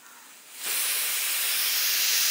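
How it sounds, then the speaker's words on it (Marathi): Pressure cooker steaming while cooking a spinach and moong dal curry, a loud continuous hiss that bursts in suddenly after a soft background and holds steady, with no talking. "त्यानंतर पटकन होण्यासाठी आपण कुकरमध्ये करतो आहोत"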